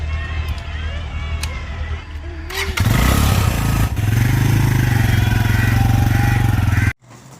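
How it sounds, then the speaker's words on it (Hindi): A motorcycle engine starts and settles into a loud, steady, close idle thrum. Someone speaks over the quieter lead-in before the engine catches, and the engine cuts off sharply near the end. "आज मैंने मुकल्लफ भाई की जो बाइक है वो बाहर निकाली है।"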